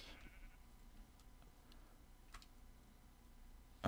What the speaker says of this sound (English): How many sheep are there?